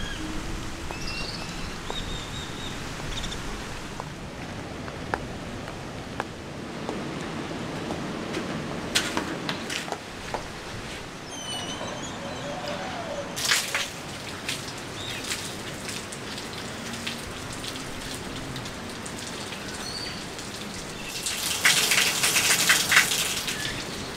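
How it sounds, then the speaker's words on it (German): Water pours steadily from an outdoor shower at a campground in Mexico, a continuous close splashing hiss with irregular spatters and a louder gush near the end, with no talking. "Und ich hole mir jetzt einfach mal eine Dusche ab."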